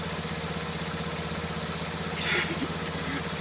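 A 2012 Fiat 500C TwinAir with its 898 cc turbocharged two-cylinder idles steadily, giving a close, even, lawnmower-like chugging throb that continues throughout with little change.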